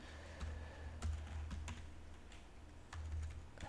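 Fingers type jQuery code on a computer keyboard, a quiet close run of uneven key clicks in short bursts with brief pauses, under a low background hum.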